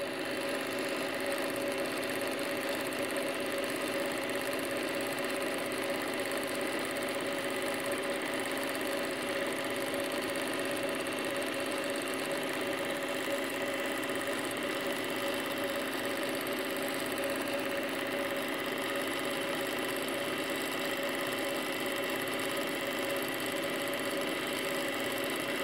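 A sewing machine runs at a slowed speed during free-motion quilting, a steady, even mechanical whir and hum that continues unbroken and fairly quiet, with no talking.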